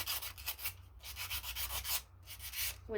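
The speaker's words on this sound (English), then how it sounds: "So just kind of sand it a little bit." Sandpaper rubbed over a glazed clay pottery ring, producing soft, close, steady back-and-forth scratching strokes in an even rhythm, quiet and alone.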